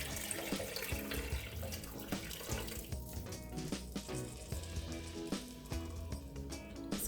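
Water pours steadily into a crockpot for several seconds while making oxtail stew, a continuous splashing rush with slight gurgling variations, up close and without speech.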